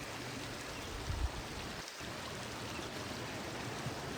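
Low, shallow river water runs steadily over rocks and boulders in a wilderness stream, a soft continuous wash heard alone at a moderate distance.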